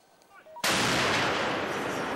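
Repaired tank fires at enemy positions: a single loud, sharp artillery blast bursts in after a quiet lead-in and rolls on as a sustained, booming roar.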